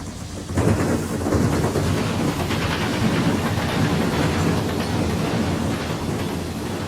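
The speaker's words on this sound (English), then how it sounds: "East St. Louis to Harrisburg-bound TV4 pounds across the diamond with punishing blows" An eastbound Conrail freight train bound from East St. Louis to Harrisburg pounds heavily across a railroad diamond crossing, a loud, continuous rumbling roar of wheels striking the crossing frogs that sets in sharply and holds.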